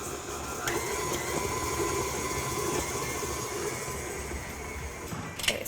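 A stand mixer creams two sticks of softened butter with granulated sugar, its motor giving off a steady, even whir and mechanical drone that runs without a break, close by, with no talk.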